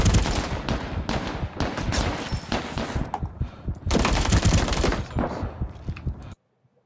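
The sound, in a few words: gunfire in video game Ring of Elysium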